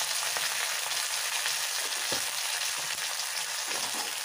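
Ginger and cumin powder fry in hot oil for a tempering, giving a steady, close, even sizzle with a few soft stirring scrapes and no talking.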